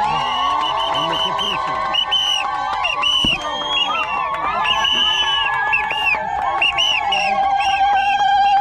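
A crowd ululates at a CCM party ward office gathering in Mjimwema and Matarawe, making loud, overlapping warbling trills with shouts and cheering mixed in. The sound carries on without a break the whole time.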